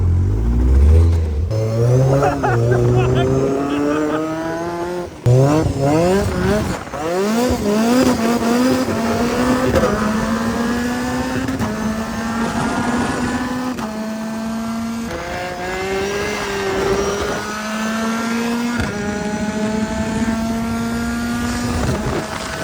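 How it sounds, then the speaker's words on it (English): A 4-cylinder supercharged race car with a sequential gearbox, 500 kilograms and 400 horsepower, revs hard and loud from onboard, climbing through repeated quick gear shifts in a continuous wailing roar. "So this is a 4-cylinder supercharged, right? Sequential gearbox, 500 kilograms and 400 horsepower."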